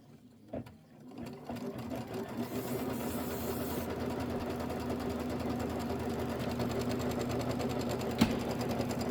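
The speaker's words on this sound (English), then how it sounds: "So this is your placement stitch for your batting." An embroidery sewing machine runs a placement stitch for batting, starting up after a few clicks into a steady, close mechanical whir with a rapid even needle rhythm and one sharp knock near the end.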